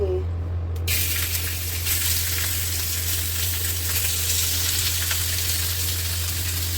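Meat sizzles steadily in a hot pan while being sautéed for Bicol express, a loud continuous frying hiss that starts abruptly as it hits the oil, with a low steady hum underneath.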